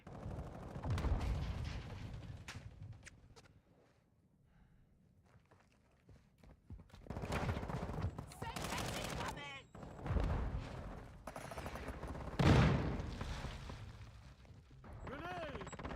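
Gunfire from the video game Modern Warfare 3 cracks in several loud bursts with quieter gaps between them, mixed with game effects and scattered footsteps.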